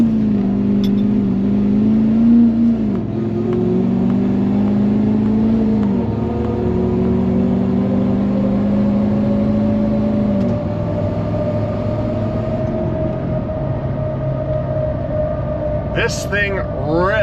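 Ford 6.7 Powerstroke diesel truck on a dyno at full throttle, its engine note climbing in pitch and dropping at each gear change, then rising high near the end, with someone talking over parts of it.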